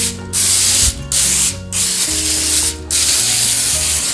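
Non-stick cooking spray hissing onto a baking sheet in four close, loud bursts separated by brief pauses, with no voices.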